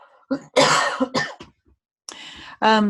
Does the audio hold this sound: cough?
yes